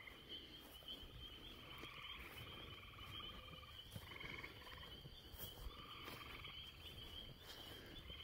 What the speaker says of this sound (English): Frogs. It's peepers.